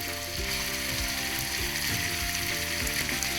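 Tomatoes and green chillies dropped into frying onions for masala bhindi set off a loud, steady sizzle with bright crackling and a few metallic scrapes and clicks of stirring, no talk.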